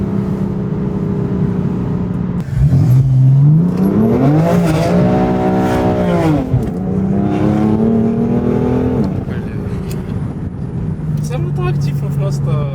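A BMW M4 F82 revs its engine hard with the window open, the exhaust note rising and falling in strong sweeps, loud and close from inside the car, before settling back to a steady cruise drone.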